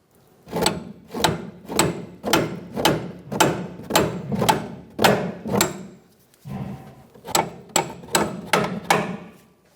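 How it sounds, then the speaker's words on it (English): A hammer tapping a bolt out of a control arm on a 2014-2018 Chevrolet Silverado 1500, loud close blows in a steady rhythm of about one per half second, a brief pause, then a few more strikes. "Tap the bolt out of the control arm"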